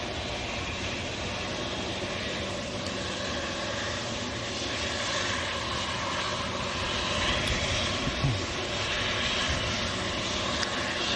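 KLM Embraer E190 bound for Amsterdam at Manchester Airport, its engines a constant broadband roar at moderate distance, steady throughout with a few brief clicks and no voices.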